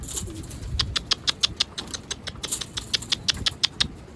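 Escaped pigeons near a loft, heard as a rapid run of sharp, fluttery taps and pats, likely wingbeats or feet, repeating in quick bursts over a faint low background rumble.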